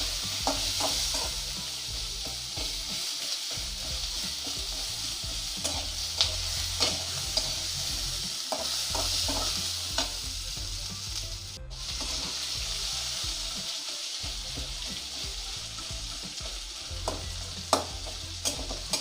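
Onions and dried red chillies fry in hot oil while a spoon stirs them, a constant close sizzle broken by scraping strokes and light taps against the pan, with no voices.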